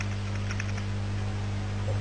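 Keys on a computer keyboard are tapped in a short, faint burst of clicks near the start, set against a steady low electrical hum that runs throughout.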